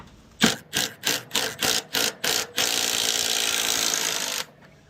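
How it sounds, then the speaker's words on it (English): A 13mm deep socket on a ratchet or power tool works a bolt loose while removing a Fujitsu mini split unit: seven quick bursts of rattling ratchet noise, then about two seconds of continuous whirring, close and loud. "Alright, I'm going to use a 13mm deep socket."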